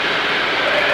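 Yak 52 propeller aircraft engine droning steadily in flight, a loud, close, continuous roar from the cockpit with no break.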